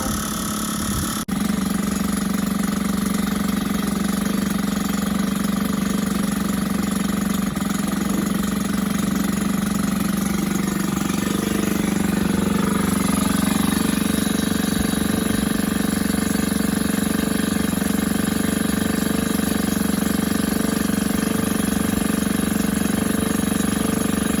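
A Suzuki FA50 moped's small two-stroke engine runs steadily for the whole stretch, a loud constant drone with a rattly, buzzy edge that grows slightly louder and rougher midway as it keeps running.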